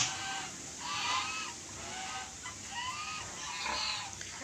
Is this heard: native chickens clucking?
yes